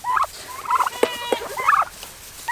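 Poultry call nearby in short, warbling bursts with scattered sharp clucks, close and fairly loud, no voices.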